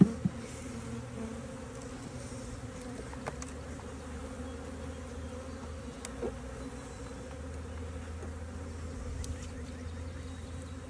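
Honey bees in a hive opened for a spring inspection, a faint continuous buzzing drone with occasional small knocks and clicks, close by and steady throughout.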